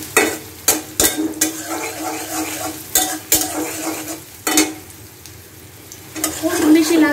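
Okra with a little turmeric fries in hot oil while a utensil stirs it, sending sharp scraping strokes over a constant soft sizzle.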